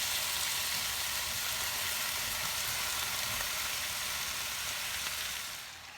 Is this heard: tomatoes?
yes